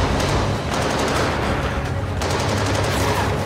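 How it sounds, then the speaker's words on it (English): Dense, loud gunfire from a film scene set in 1920s Berlin, rapid overlapping shots like a machine-gun fusillade crackling without pause. "Sie schießen einfach so?"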